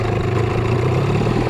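A boat motor on the Ili River runs loud and close in a steady, low, rumbling idle that holds even throughout, with no talking over it.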